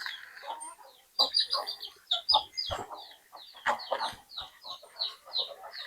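Free-range native country chickens cluck in a close, busy chorus while pecking at feed, with overlapping bursts and short calls spread steadily through the scene.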